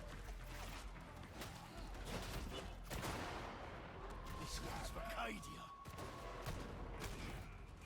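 Gunfire in the Darktide video game, sharp shots and bursts over a busy, chaotic backdrop of combat noise, fairly quiet overall with a couple of distinct blasts.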